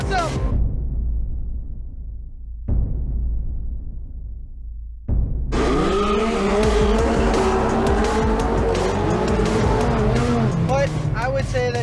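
A Corvette Z06 racing a motorcycle through corners, its engine roaring loud and close with gear changes and squealing tires; someone talks excitedly over the engine noise.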